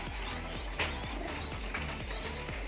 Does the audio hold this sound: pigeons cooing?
yes